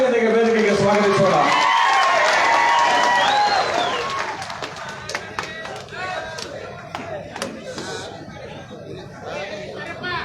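Loud applause and cheering from a large crowd at a JD(S) political rally in Afzalpur, greeting H.D. Kumaraswamy onto the stage. It is dense and sustained for about four seconds, then settles into scattered clapping and crowd chatter.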